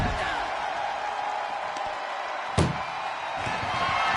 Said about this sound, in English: Crushing impact from the ambulance door